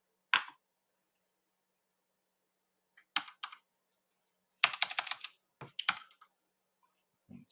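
A computer keyboard is typed on while drafting in CAD software, with short isolated bursts of quick clicky keystrokes separated by silent gaps, close and clear, with no voice.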